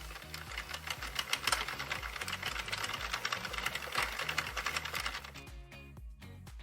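An Addi Express circular knitting machine is hand-cranked, its needles clattering in a fast, rhythmic mechanical chatter that runs steadily before slowing and thinning out near the end.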